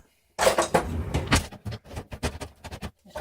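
Ground beef stir fry being flipped in a pan produces a quick run of clattering metal knocks and scraping utensil hits, fairly close, over a faint sizzling bed, with no talk.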